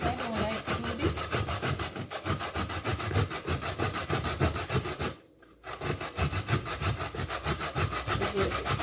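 Coconut flesh scraped on a hand grater for homemade coconut milk, giving a steady rhythmic rasping and scraping close by that runs almost the whole time with one brief pause, and no talking.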